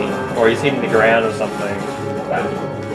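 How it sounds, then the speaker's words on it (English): A pet dog barks and yips in the room, a few short bursts heard beneath someone talking over gameplay of Kingdom Hearts Final Mix. "that's my dog."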